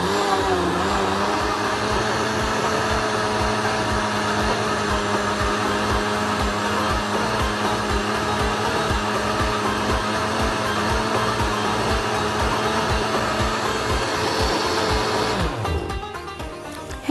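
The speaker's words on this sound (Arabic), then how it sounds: "تعالوا بينا نغطي الخلاط بتاعنا ونضرب المكونات دي كويس جدا جدا مع بعض" An electric blender whirs through banana cake batter ingredients with lemon juice and sugar, a loud, steady motor drone holding for about fifteen seconds before winding down and stopping near the end.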